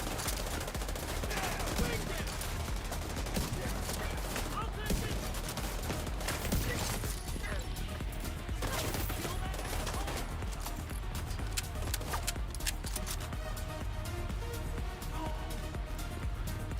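Continuous gunfire from the shooter game The Division 2, rapid automatic bursts and single shots overlapping throughout, with a voice talking underneath at times.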